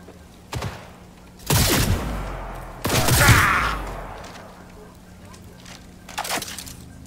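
Bursts of gunfire in Cyberpunk 2077 crack out in a few loud volleys with thuds and impacts, separated by quieter stretches of background noise.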